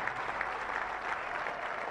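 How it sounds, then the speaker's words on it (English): Crowd applause at a Zambian independence anniversary celebration, a steady wash of many hands clapping for two seconds without speech. "Let's clap for them."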